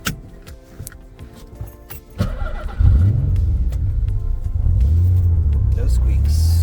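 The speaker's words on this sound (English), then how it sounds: "now we're going to take his Z for a test drive." A 1996 Nissan 300ZX engine cranking, catching and settling into a rumbling idle before pulling away with rising revs, loud and close after a few clicks and handling noises.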